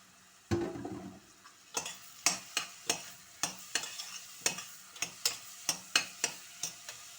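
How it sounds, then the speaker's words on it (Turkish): Zucchini being sautéed with onions in a pot for soup, a spoon scraping and tapping the pot in a regular rhythm of sharp knocks over a low sizzle, close up with no voices. "Biraz da kabaklarla kavrulacak."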